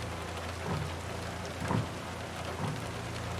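Steady rainfall with low rumbling thunder in American Truck Simulator, a continuous wash of rain with a few soft swelling rolls, no talking.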